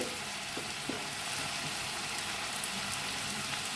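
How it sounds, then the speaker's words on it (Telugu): Vegetable pieces and tomato fry in a pan for a tomato bath, giving a constant close sizzle and crackle with faint stirring clicks and no talk. "కూరగాయ ముక్కలు వేగాక టమాటా కూడా వేసుకోవాలి"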